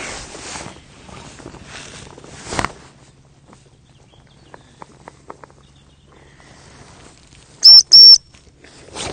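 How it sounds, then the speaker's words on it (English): A sharp, high whistle sounds twice in quick succession, loud and close, after some faint rustling and a few soft taps. "I'll get the whistle ready"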